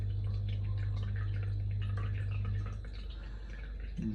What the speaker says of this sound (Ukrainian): Зараз чуємо, як вода стікає постійно.